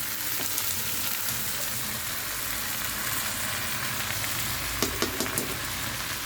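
Okra pieces fry in hot oil in a pan, giving a steady broadband sizzle throughout with a few sharper crackles and pops near the end, close and continuous with no talking.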